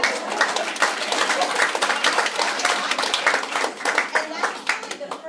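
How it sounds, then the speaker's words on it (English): Audience applause for invited guests at a talk, a dense burst of many hands clapping at once, sustained and fairly loud throughout with no gaps. "So let's give our guests a round of applause."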